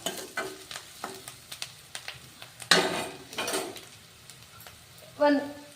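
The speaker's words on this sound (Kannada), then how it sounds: "ಈಗ ಸಬ್ಬಸ್ಗಿ ಸೊಪ್ಪು ಹಾಕೋಣ" Dill leaves tossed into a frying pan and stirred, giving a brief sizzle and a few scraping stirs with scattered utensil taps on the pan, close and fairly quiet, ending in a louder burst of frying.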